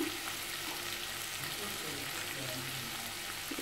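Vegetable pieces for a vegetable biryani cook in oil, a continuous, fairly soft frying sizzle with a faint low hum underneath and no clear talk.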